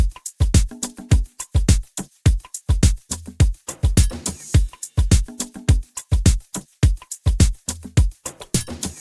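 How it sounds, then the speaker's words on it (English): Full electronic drum kit pattern playing together: punchy low kicks, snappy hits and bright ticking percussion including a triangle, looping in a tight steady groove for about nine seconds, loud and upfront with no talk. "And all the drums together sound like this."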